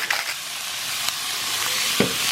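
Beef sizzles and fries in a pan for gyudon, a steady close hiss with a few brief stirring clatters.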